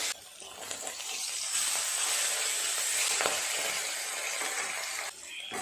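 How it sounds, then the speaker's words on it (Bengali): Oil sizzles loudly and steadily as fish pieces and fish roe fry, a continuous crackling hiss with brief spitting pops close by, and no voices. "পিস মাছ ভাজা বাকি আছে, ওটা একইভাবে ভেজে নেব।"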